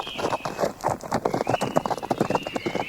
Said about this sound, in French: Puis il remonta en selle et le cheval repartit au galop.